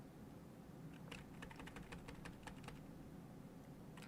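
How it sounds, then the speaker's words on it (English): Fingers tap out a quick run of clicks on a computer keyboard, close and fairly quiet, with a short pause partway through and no talking. "So now just kind of start typing this out."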